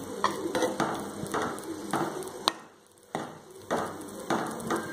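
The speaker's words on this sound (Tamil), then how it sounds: "பாருங்கள் எப்படி கொதிச்சுக்கிட்டு இருக்கு." Tirunelveli-style fish curry with eight fish pieces bubbling in a pot, giving a steady close sizzling and bubbling texture with occasional clinks of a utensil, broken by a brief lull.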